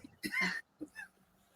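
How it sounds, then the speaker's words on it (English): A short, rough cough or throat-clearing burst, followed by a couple of smaller hacks, close and fairly quiet. "she has her little coughing spell"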